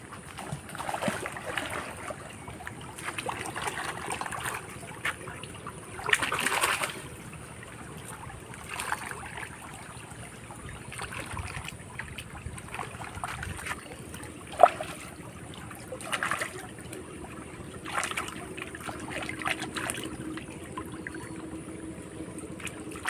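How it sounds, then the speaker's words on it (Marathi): Wild roots are washed by hand in a flowing monsoon stream, a soft continuous trickle of water broken by intermittent splashes and sloshing, close by and with no talk. "ह्या व्हाळात आपण आता हे धुवून घेऊया स्वच्छ एकदम"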